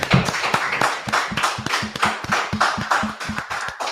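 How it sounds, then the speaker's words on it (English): A crowd claps in unison at a gathering, loud rhythmic beats falling evenly about twice per second over a noisy wash of other hands and voices. "Clap it up. Clap it up."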